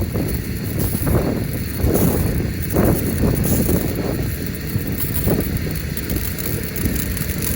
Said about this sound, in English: The power washer hasn't get all the air out the line yet.